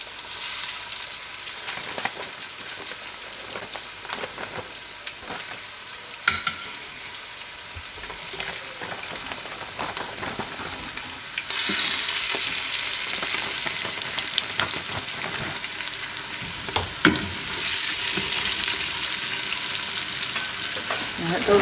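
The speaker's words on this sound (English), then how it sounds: "we're going to be largely deep frying them" Steady, crackling sizzle of pub-style chicken wings deep frying in hot oil, growing louder partway through, with occasional clinks of utensils and no talking.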